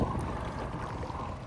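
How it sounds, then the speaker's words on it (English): The engine of a 2014 Hurricane Fun Deck 202 deck boat running, a steady low rumble with water churning, close and moderately loud for a short stretch with no talk. "I got the engine running right now."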